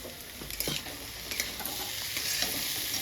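Mushrooms and potatoes stir-fry with fresh ginger added, a close continuous sizzle broken by a few quick spatula scrapes, with no talking.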